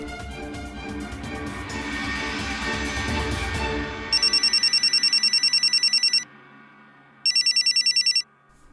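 A loud electronic phone ringtone sounds in two bursts of rapid repeating tones, following a stretch of mixed background noise.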